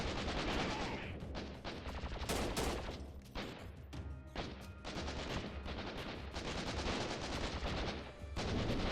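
Sustained gunfire in Freeman: Guerrilla Warfare, dense rapid volleys of rifle and machine-gun shots that crackle continuously with brief lulls, sounding like a full firefight, heard fairly faintly.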